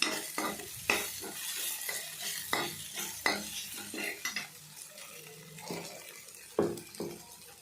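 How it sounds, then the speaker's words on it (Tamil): Okra sautéing in oil in a pan, stirred with a utensil: irregular clattering scrapes and knocks over a soft, continuous sizzle, close by. "வெண்டைக்காய் அந்த சுட்டு சுட்டு எண்ணெய் போகிற வரைக்கும் நல்லா வதக்கி எடுத்துக்கணும்"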